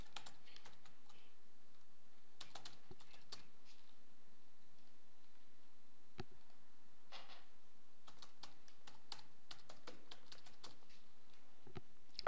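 A computer keyboard is being typed on in short, irregular bursts of light, crisp key clicks with pauses between them. The sound is fairly quiet and close, and no one talks.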